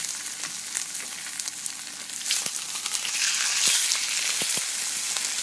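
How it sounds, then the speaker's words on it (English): A barramundi fillet sizzles steadily in a hot frying pan, a loud continuous hiss that swells slightly as it settles, with a few small pops and clicks and no voices. "we really want it to sizzle"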